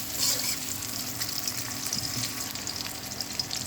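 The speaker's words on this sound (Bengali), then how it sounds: "তেলের মধ্যে পেঁয়াজ কুচি দিয়ে দেবো" Chopped onion frying in hot oil in a home kitchen, a steady close sizzle and crackle with scattered sharper pops that holds through without any talk.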